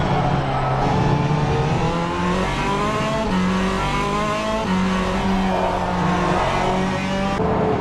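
A Hypercar AM race car heard on board in a sim racing championship at Road America: a loud, continuous engine drone climbs and drops through gear changes, with occasional tire squeal and no talk.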